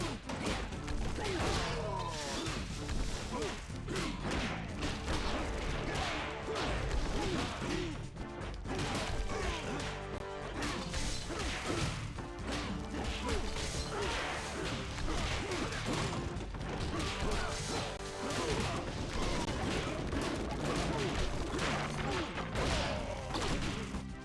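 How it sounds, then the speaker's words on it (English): Enemies and objects being smashed in the video game One Finger Death Punch: rapid, relentless crashes, whacks and breaking impacts over steady loud game music and effects throughout. "Beat enemies into objects to break them."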